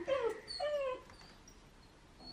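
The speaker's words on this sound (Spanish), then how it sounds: "Mi perro quiere salir" A pet dog whines at home, wanting to go out onto the terrace: two or three short, high whimpers close by, then quiet.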